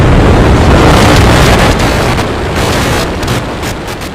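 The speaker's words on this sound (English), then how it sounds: "We have liftoff. Vehicle is pitching downrange." SpaceX Starship rocket engines at liftoff on its fourth test flight from Texas, a loud continuous broadband roar with wind-like rumble that eases slightly toward the end.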